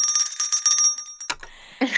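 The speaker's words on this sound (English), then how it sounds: "I have a bell, and if you get an answer right," A hand bell rings out a rapid run of bright metallic strikes, a clear cluster of close, loud dings that fade before a short burst of other noise at the end, marking a correct answer in a quiz game.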